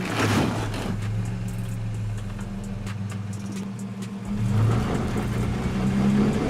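A Nissan Pathfinder SUV, one of several 2000s off-roaders, climbs a rocky slope, its engine droning steadily at low pitch and swelling louder as the revs rise near the end, with traction control braking the wheels.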